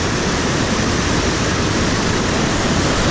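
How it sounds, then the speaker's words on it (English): Whitewater rapids on the Irondale-Burnt River give a dense, unbroken roar of rushing water. The steady, loud hiss is heard alone, with no voices. "Look at the size of these waves,"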